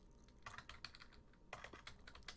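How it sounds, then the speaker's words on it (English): Computer keyboard typed quickly while writing a line of code, rapid close clicking keystrokes in two short bursts. "you simply type the word print"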